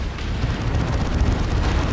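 Explosions from a Manticore strike in the strategy game Dawn of War 2, a Space Marines versus Imperial Guard match, rolling as a dense, continuous low rumble with crackling bursts throughout, loud and steady, with no voices.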